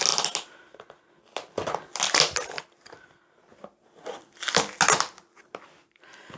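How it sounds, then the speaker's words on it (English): Flat screwdriver prising stapled paper cards off upholstery fabric sample swatches, giving repeated loud bursts of crunching, tearing paper in uneven clusters with short pauses between. "I will just get a screwdriver in there, just a flat one, and prise the cards off"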